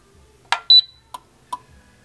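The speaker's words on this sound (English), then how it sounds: "when I turn the thermostat on, you'll hear a beep" A sharp electronic beep from a thermostat of a Chiltrix heat pump stands out amid a few light clicks and taps, close by in an otherwise quiet room.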